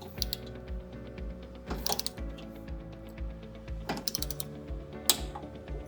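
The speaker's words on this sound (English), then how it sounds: "grab your torque wrench, and you're going to torque these to 25 foot-pounds" A torque wrench ratchets in short bursts of close, crisp clicking while bolts on Polaris RZR Pro rock sliders are tightened to 25 foot-pounds, with brief louder snaps between the quieter ratcheting runs.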